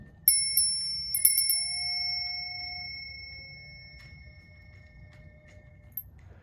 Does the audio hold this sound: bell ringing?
yes